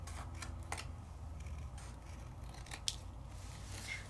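Scissors snip and trim paper for a handmade craft project, giving a few quiet cutting and rustling strokes over a low background hum. The sound is close and faint.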